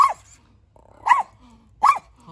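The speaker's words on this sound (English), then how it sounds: "Sorry about the bad audio and my dog barking top of" A pet dog barks loudly and close at home, three sharp separate barks spaced less than a second apart with quiet gaps between.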